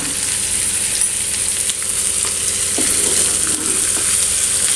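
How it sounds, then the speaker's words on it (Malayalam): Chopped onions with salt sauté in a pan for a mackerel roast, giving a steady, close, fairly loud sizzle with a soft stir or two scraping through, and no voices. "ഇനി നല്ലോണം ഇതൊന്ന് വഴറ്റിയെടുക്കാം"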